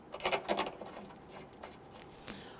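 Bolt being tightened on the engine torque strut mount of a 2011-2017 Nissan Quest 3.5L V6, with a few quick ratcheting clicks near the start and a faint click later, close and fairly quiet.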